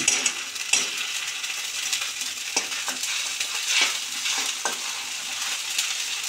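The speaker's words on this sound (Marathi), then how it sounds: "कांदा छान गुलाबी होईपर्यंत मस्त परतून घ्यायचा आहे" Onion with ginger-garlic paste sautéing in a pan for a spicy ghevda amti, a steady close sizzle with a few sharp scraping stirs spaced through it.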